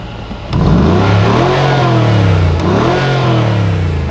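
A Mercedes-Benz G-Wagon, started with a key, fires up and its engine revs loudly, pitch rising and falling in two swells before settling, close by with no talking.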